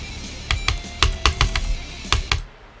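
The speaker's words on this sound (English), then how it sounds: "I'm literally clicking there." Sharp plastic clicks from a computer mouse, about eight quick taps in an irregular burst, close and isolated with no talking.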